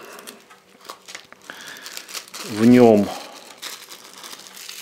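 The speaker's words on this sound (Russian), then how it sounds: "Здесь у нас вот такой вот пакетик." A small plastic zip bag from a Nitecore P36 flashlight kit crinkles briefly and fairly close as it is handled, under a man's speech.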